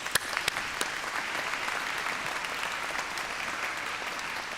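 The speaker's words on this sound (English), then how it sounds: "Let's start with a round of applause" Steady applause from a graduation ceremony audience, dense and continuous with a few sharper claps near the start, sustained evenly throughout.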